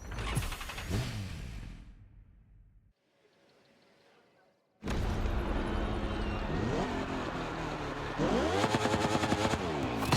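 A racing motorcycle engine in the driving game The Crew Motorfest roars loud and close, rising and falling through several revs. The engine cuts to near silence briefly, then returns at full, sustained power that climbs again toward the end.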